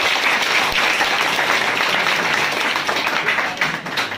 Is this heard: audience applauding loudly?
yes